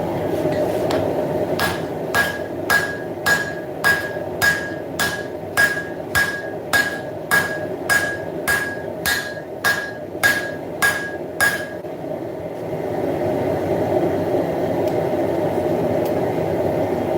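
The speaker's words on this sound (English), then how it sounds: "I'm going to be going in with my straight peen hammer" A straight peen hammer strikes hot steel as a camp axe is reforged, ringing out about fifteen evenly spaced metallic blows over a steady engine-like hum, then stopping while the low rumble continues.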